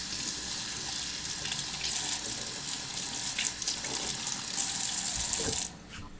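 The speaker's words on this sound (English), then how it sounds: "Rinse my knife off." Water from a kitchen tap streams steadily into a sink while a knife is rinsed, a close, even hiss with faint splashes, cut off near the end.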